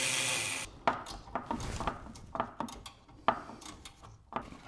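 A ratchet wrench fitted with a 17mm socket turns a bolt on a Nissan 240SX subframe, giving repeated sharp metallic clicks in irregular bursts, close and clear, with no talking.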